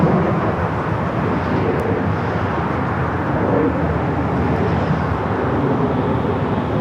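Air Premia airliner lined up for takeoff at LAX, bound for Seoul, producing a steady, loud broadband jet roar that holds constant throughout with no voices.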